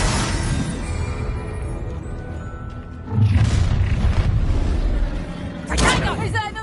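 A Confringo fire spell in a Harry Potter video game bursts into a loud blast, followed by a second booming explosion a few seconds later, with ambient game noise in between.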